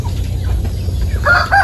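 Native chickens in an outdoor ranging area give soft clucks, and a short crow rises at the end, close by over low background rumble.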